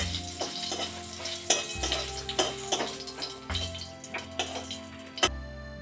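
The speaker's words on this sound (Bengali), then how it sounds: "এটাকে ভেজে নেব এখন।" White cumin, two bay leaves and a dried red chili frying in hot oil, crackling and popping in sharp irregular bursts over a soft sizzle, with a low hum in the background and no talking.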